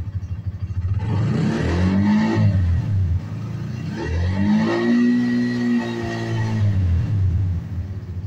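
A Bajaj CT100 motorcycle engine, fuel-injected and being checked for sensor and ECU faults, revs up close in two or three rising and falling bursts over a steady idle rumble.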